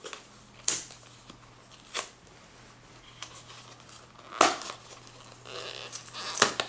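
A product packaging sleeve being torn open, with several short, sharp ripping and crinkling bursts spread over a quiet background hum, close and moderately loud, no talking.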